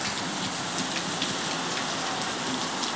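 Heavy rain pours steadily onto a town street, a dense, continuous hiss of drops splashing on pavement and surfaces close by, with no voices over it.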